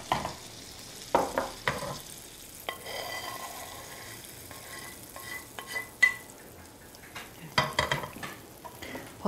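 Lemon-butter sauce cooks gently in a pan as it is stirred and skimmed: a faint continuous sizzle with irregular clinks and scrapes of a utensil against the pan, close by and without speech.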